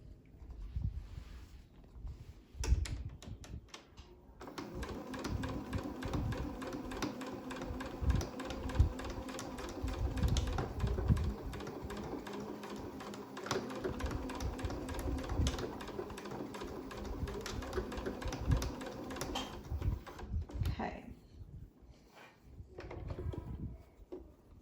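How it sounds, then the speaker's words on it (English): A sewing machine stitches elastic into a fabric medical mask with filter, a steady rapid mechanical whir running for about fifteen seconds, with quieter handling clicks before and after. "so I finished sewing to the gap"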